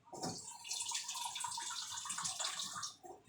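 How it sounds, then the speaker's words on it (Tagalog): Water poured into a cooking pan while making fish fritters, a steady hissing splash lasting a few seconds, soft and close, with no talking. "Lagyan pa natin ulit ng kunting tubig."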